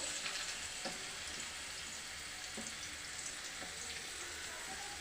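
Carrots frying in hot oil in a wok, a faint, even crackling sizzle running throughout with a few soft ticks and no voices.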